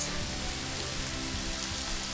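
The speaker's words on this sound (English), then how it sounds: "It looks like it's raining in one spot only." Steady, dense rain patter pours down without pause, a broad hiss with soft drips close by.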